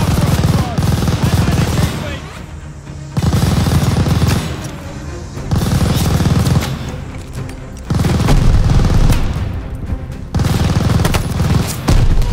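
An enemy MG machine gun hammers away in Call of Duty Vanguard, loud booming bursts of sustained fire broken by short pauses, close and heavy.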